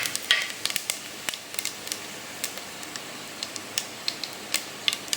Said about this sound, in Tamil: நெய் நல்லா காஞ்சிட்டு இப்போ நம்ம எடுத்து வச்சுருந்தா சோம்பு, பட்டை, லவங்கம், ஏலக்காய் ஆட் பண்ணிடுவோம்